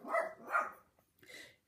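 A pet dog barks indoors in two quick loud yaps, followed after a short pause by a softer third bark, clear and close with no voices over it.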